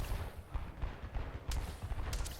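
Gunfire in the video game Half-Life 2, heard as a busy spread of booms and shots with two sharper bursts standing out, apparently underwater, with no talk over it.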